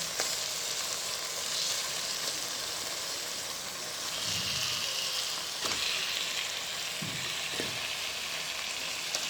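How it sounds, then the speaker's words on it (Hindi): Chicken sizzles with onions in a pan, a constant bright frying hiss close by, with a few soft thumps and clacks as the pieces are moved. "उसके बाद हम इसमें चिकन डाल के उसको अच्छे से भून लेंगे"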